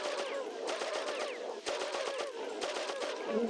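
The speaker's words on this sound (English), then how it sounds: "and shooting, and shooting, and maybe some more shooting. A bit more shooting." Rapid bursts of gunfire from the video game Oddworld: Abe's Oddysee, repeated sharp shots in quick clusters, steady and fairly loud with game ambience beneath.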